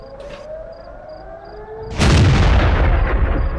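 A StuG III tank gun in World of Tanks fires a single loud, booming shot that leaves a long rumbling tail, heard over a steady wavering siren-like tone.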